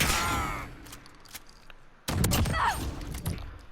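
Model 680 DMR rifle fire in Call of Duty Modern Warfare: a couple of sharp loud shots, the second heavier blast at the midpoint followed by a ringing tail.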